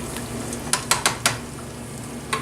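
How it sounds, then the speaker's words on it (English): Sausages going into hot frying oil, a steady hiss underneath a quick run of four sharp utensil clicks, then another click near the end, close by and without speech. "Okay, so the oil is ready, so now we're going to fry these up"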